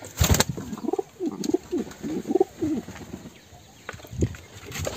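Rescued wild pigeons cooing in soft repeated low throaty calls, several coos in a row at close range and at moderate volume, with a faint rustle and no talking.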